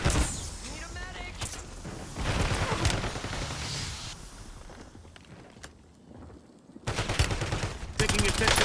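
Video-game gunfire crackles in repeated bursts of rapid shots and blasts, loud and close, separated by short lulls, with in-game voices talking between the volleys.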